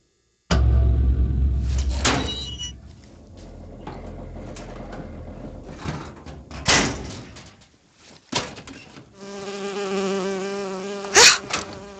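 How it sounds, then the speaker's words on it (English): A bee buzzes in the video game Bioshock Infinite, a whining, wavering drone that grows loud near the end, mixed with scattered thuds and other game noises. "Oh, it's a bee. I hate these things."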